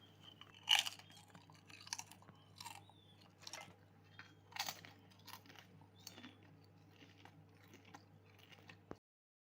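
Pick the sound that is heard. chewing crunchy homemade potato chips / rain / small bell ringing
chewing crunchy homemade potato chips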